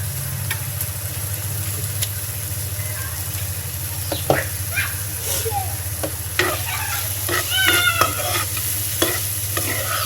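Potol dorma filling with chopped green chillies sizzles steadily in a pan while a utensil scrapes and stirs in short irregular strokes, close and moderately loud, with a cat meowing briefly in the background and no talk.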